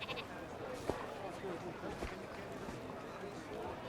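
Sheep bleat here and there as a shepherd leads the flock out, in a busy outdoor scene with movement and scattered thuds, while a voice talks over much of it.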